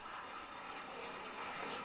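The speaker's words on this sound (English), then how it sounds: "Plane flies overhead." An airplane passing overhead, heard as a steady, broad engine roar that holds at an even level for about two seconds with no talking.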